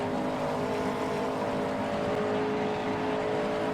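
A 2022 Porsche Cayenne Turbo GT engine at full speed in Assetto Corsa, a steady high-revving drone with a smooth tonal hum held throughout, loud and unbroken.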